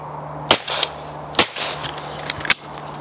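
A .410 shotgun fires three sharp, loud reports at roughly one-second intervals during clay shooting, each crack followed by a short rumbling tail and a steady low hum underneath.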